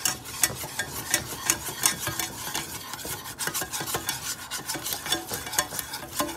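A roux being made: flour stirred into melted butter, with a utensil scraping and rasping rhythmically against the pan in quick, continuous strokes amid a faint sizzle, and no voices.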